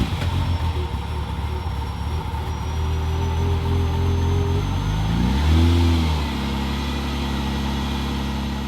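A 1995 Ferrari F512M engine runs steadily close by, then its pitch sweeps up and back down in one short rev before it settles into a smooth idle.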